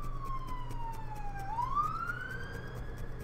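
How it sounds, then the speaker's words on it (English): An ambulance siren passing outside an open window, a single sweeping wail falling then rising again, moderately distant over a low background hum. "Ambulance is gonna go by in a second."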